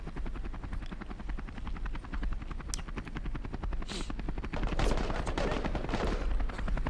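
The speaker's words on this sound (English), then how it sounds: "They're all aiming for the helicopter, aiming towards the helicopter." In the Call to Arms Vietnam mod set during the 1968 Tet Offensive embassy attack, a helicopter's rotor chops steadily and loudly while bursts of rifle and machine-gun fire crackle around it.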